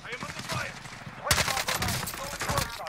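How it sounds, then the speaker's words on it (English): Video game gunfire in a firefight, a dense rattle of shots that starts abruptly partway through and continues loudly, with game dialogue and other sounds underneath beforehand. "I am under fire."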